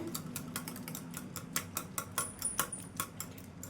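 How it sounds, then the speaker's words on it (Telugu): A whisk beating eggs for an omelette, a quiet, quick irregular tapping and clicking against the bowl that continues steadily, with a faint high ring partway through. "ఇదైతే మంచిగా గిలక్ కొట్టినట్టు ఎక్కడ ఉండల్లా లేకుండా కలిపేసుకోవాలండి ఒక విస్కర్ సహాయంతో"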